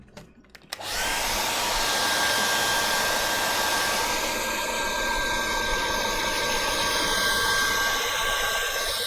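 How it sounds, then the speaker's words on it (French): A hair dryer switches on after a brief click and blows steadily and loudly with a constant whirring roar and a faint high whine, running alone without talk. "Très beau le sèche-cheveux, t'as vu ça?"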